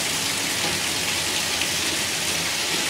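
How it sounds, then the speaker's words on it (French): Steady hiss of water spraying from a shower head in an apartment bathroom, a dense continuous rushing sound, close and fairly loud throughout with no voices. "On va essayer d'ouvrir le robinet en haut."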